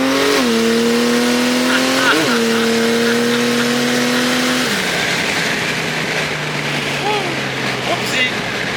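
A Barra-swapped Ford Falcon XD making 650 horsepower accelerates hard, its engine note climbing loudly through gear changes, then easing into a rough throb with tire noise and people talking over it.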